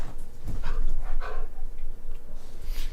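Dog panting outdoors, in rapid rhythmic breaths at close range, with a few louder huffs over a steady low background rumble.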